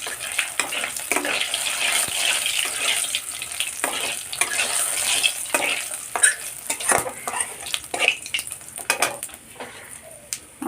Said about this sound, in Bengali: আমার ফোড়নটা ভাজা ভাজা হয়ে গেছে।